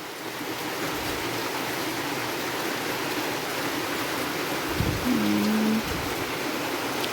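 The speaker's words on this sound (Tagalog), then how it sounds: "Lakas ng ulan" Steady, dense rain hisses continuously at close range, a heavy downpour with no pauses and no talking.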